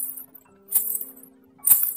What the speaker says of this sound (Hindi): बेल की आवाज़ सुन के वो लड़का पीछे मुड़ने ही वाला था